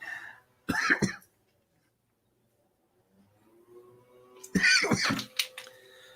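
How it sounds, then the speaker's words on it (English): Two bursts of coughing separated by a few seconds of quiet, the second longer and rougher, close to the microphone. "Sorry about the coughing."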